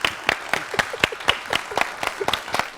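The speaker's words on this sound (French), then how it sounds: "Applaudissons" A small group claps in a loose, rhythmic pattern of distinct individual hand claps, close and fairly clear, with a little background murmur.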